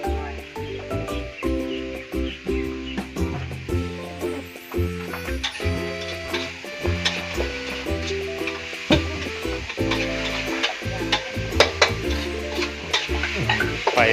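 Beef with holy basil stir-fried in a pan over a charcoal stove: a continuous loud sizzle with steady, rhythmic scraping and clanking of the spatula throughout, close up, with no talk.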